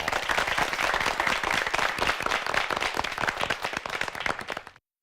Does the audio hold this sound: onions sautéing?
no